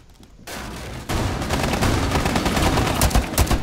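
Loud, sustained machine-gun fire in Rainbow Six Siege, a burst of rapid shots hammering continuously after a brief quieter lead-in.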